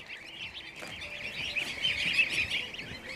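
Newly arrived chicks peep in a chorus of high, rapid chirps inside a garden nursery, a steady and fairly soft cluster of calls with no voices heard.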